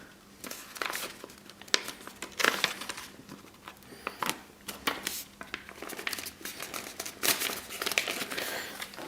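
A paper sewing pattern for trousers is folded along dashed lines, giving close, irregular crinkling and crumpling with sharp rustles and soft creases throughout.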